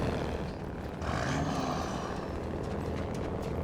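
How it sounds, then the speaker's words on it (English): Truck engine in the Snowrunner video game, a steady droning rumble that holds at an even level throughout, loud and close with no talk over it. "I do like the sound of this engine."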